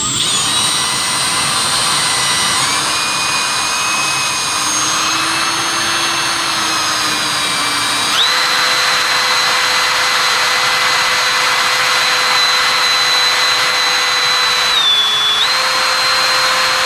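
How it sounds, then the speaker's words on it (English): A power drill boring a hole through a new piece of steel at a center mark, a loud steady whining drone that shifts pitch partway through and dips briefly near the end, with no talking. "I'm going to take my drill bit."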